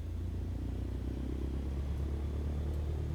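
A Cessna 152 piston engine in Microsoft Flight Simulator idles just after starting, a steady low droning rumble that fills the whole stretch without a break.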